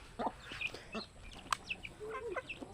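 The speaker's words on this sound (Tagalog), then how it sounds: "Yan yung mga manok, guys." Chickens at a rural home cluck and squawk in short, irregular bursts, fairly close but soft, with brief pauses between calls and no speech.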